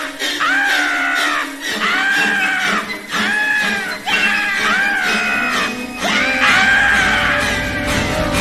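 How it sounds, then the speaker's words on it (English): Shrill, stabbing string shrieks from a Psycho shower-scene parody, blended with Looney Tunes theme music, repeat in loud rising bursts over a full, dense orchestral backing. "he incorporates the Looney Tunes theme music right into the legendary screaming violins from the shower scene"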